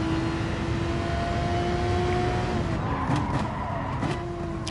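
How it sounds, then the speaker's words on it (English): In Gran Turismo Sport, a GT race car's engine drones steadily as its tires squeal and skid through a sliding, oversteering moment, with short chirps near the end and no talking. "Getting a lot of snappy oversteer this time."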